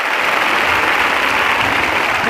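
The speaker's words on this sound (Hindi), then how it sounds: "ये सभी तालियां बजा दो जोरदार एक बार" A public crowd at a devotional gathering applauds loudly and continuously, a dense wash of clapping that stays steady throughout with no speech.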